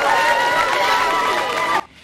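Pupils at the Institut Lumumba in Kinshasa loudly cheering and shouting as the prime minister arrives, a dense excited crowd roar that cuts off abruptly near the end.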